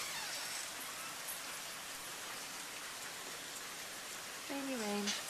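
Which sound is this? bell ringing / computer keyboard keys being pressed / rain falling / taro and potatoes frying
rain falling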